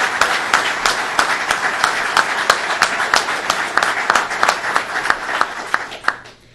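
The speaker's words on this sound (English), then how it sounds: "Let's give them another round of applause." An audience at a public briefing on flood recovery in New Hartford applauds loudly and steadily, a dense run of claps that tapers off near the end.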